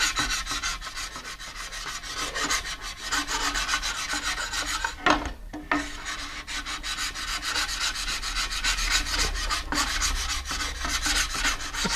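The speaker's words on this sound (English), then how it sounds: "so I can get in and scuff it up. And you can see it's kind of scuffing there." Sandpaper wrapped around a tool scuffs the inside of a translucent fiberglass rocket body tube, a steady close rasping rub that runs nearly continuously with a brief pause midway.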